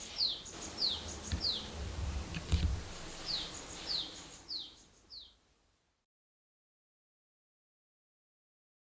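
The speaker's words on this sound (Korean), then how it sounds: "새소리가 또렷하게 들려요." Birds sing clearly in a forest by water, a run of bright, repeated downward-sweeping chirps over a soft outdoor rustle. The song fades out after about five seconds and silence follows.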